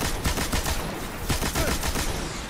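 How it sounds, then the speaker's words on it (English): Machine gun fire in the video game Destiny, loud rapid bursts of automatic shots repeating close up in quick succession across the whole moment, with no talking over them. "I want to try out this new, uh, this new machine, machine gun I just got."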